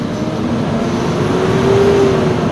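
A Mitsubishi Strada 2010 4M41 turbo diesel engine held at a raised rev near 4,000 RPM, a steady droning hum with a rising whine, loud and close, with no talk.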